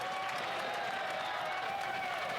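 Conservative members applauding in parliament, sustained broad clapping from a large crowd in a big chamber, steady and unbroken at moderate volume.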